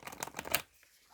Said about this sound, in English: I'm going to just shuffle it one more time